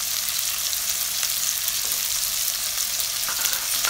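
Capsicum vegetable sautés in a pan with a constant, loud, even sizzle and faint stirring.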